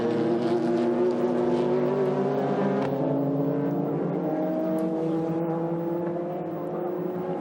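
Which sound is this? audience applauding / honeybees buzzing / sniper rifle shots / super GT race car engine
super GT race car engine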